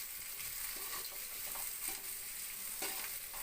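Upma mixture is stirred in a hot pan, with soft repeated scraping strokes over a quiet, continuous sizzle and no voices.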